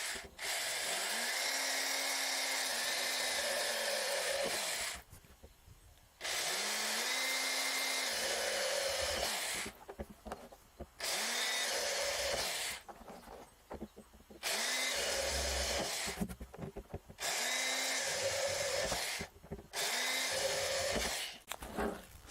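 An old power drill bores drainage holes in a vertical strawberry tower planter, running in about eight loud bursts of a few seconds each, its pitch rising as it spins up and dropping as it slows, with short quiet pauses between.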